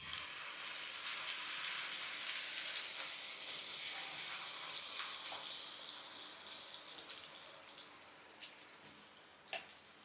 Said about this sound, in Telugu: మీడియం ఫ్లేమ్లో పెట్టుకొని దీన్ని ఫ్రై చేసుకోవాలన్నమాట